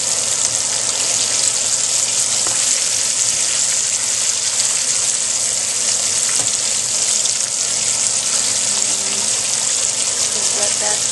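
Chicken pieces seasoned with garlic powder and salt frying in hot oil, a loud, steady, hissing sizzle that stays constant throughout with no talking over it.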